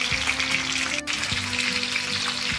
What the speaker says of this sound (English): So fry it for another 3 minutes on the other side.